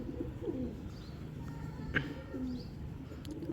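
A few soft pigeon coos sound quietly in a veranda setting, with a faint flutter and a sharp brief knock midway, otherwise calm with no speech.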